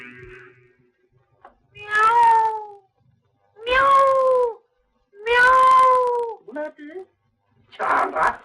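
Cat meowing indoors, four drawn-out loud meows with short gaps plus a few shorter squeaky calls, close and alone with no talk.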